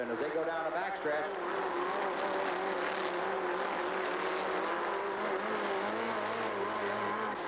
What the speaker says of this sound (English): Then 60, Rick Caperton as they go down a backstretch.